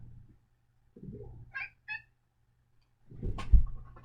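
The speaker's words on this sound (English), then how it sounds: "He's cute. That's my cat." A house cat indoors lets out two short, high meows in quick succession between low rustling and handling noises, close to the listener.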